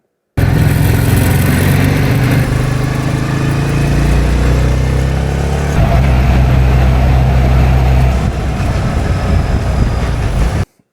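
A motorcycle engine drones steadily with heavy rushing wind noise throughout, recorded on an Action 4 camera at up to 70-80 km/h, loud and close, the engine pitch shifting slightly as it rides.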